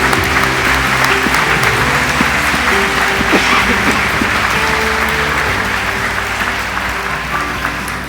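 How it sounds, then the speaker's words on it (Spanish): Wedding guests applaud steadily at a church wedding ceremony, a dense, sustained clapping that fills the room for the full length, with low musical tones or a hum sitting beneath and no talking over it. "Demos un aplauso a las damas."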